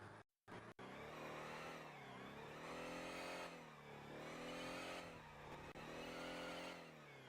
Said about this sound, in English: Now this is a drift car